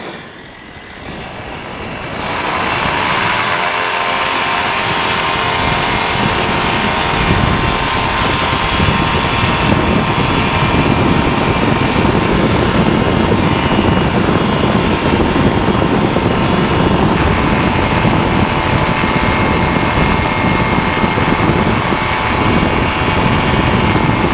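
Peabee Nanolight flexwing microlight's engine runs in flight, a loud, steady drone with airflow roar that spins up after a brief quieter start and holds constant throughout.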